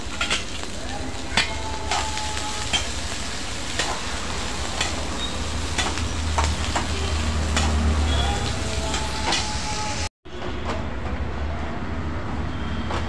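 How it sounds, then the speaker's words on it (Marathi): Onions frying for a spicy chicken curry crackle and sizzle in a pan while a spoon stirs and clatters at intervals, close and steady, with a brief cut to silence near the end. "आता आपण कांदा घालणार आहोत। कांदा आपण लालसर भाजून घेणार आहोत।"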